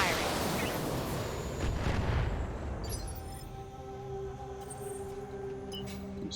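Mech weapons and defensive turrets firing in BATTLETECH, a heavy rumbling barrage of booms that swells and then settles into a lower churning roar, with a speaking voice in places.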